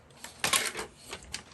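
Paper being trimmed for a traveler's notebook cover, heard as a few close, sharp clicking cuts in quick succession with no voice over them.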